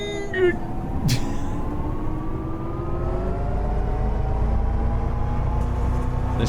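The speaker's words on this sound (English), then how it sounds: "Wow, those brakes are so squeaky." A city bus on Vienna route 24a in the OMSI 2 bus simulator game, its brakes squealing in rising and falling tones over a low steady engine hum, with a brief hiss near the start.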